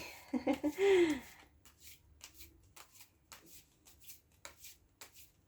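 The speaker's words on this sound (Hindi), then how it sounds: "I think I have shuffled these cards, I just want to ensure एक बार मैं और कर लूँ" Tarot cards being shuffled by hand. A voice speaks briefly at the start, then soft, papery riffling bursts repeat at an uneven pace, close and quiet.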